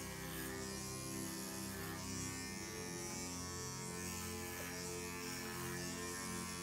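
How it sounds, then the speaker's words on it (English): Electric dog clippers with a clipper blade attachment trimming a dog's coat with the direction of growth during a field trim groom, a faint, steady buzzing hum throughout with no speech. "I am using my clipper blade attachment, which is this right here, but you could just use a regular clipper blade for this"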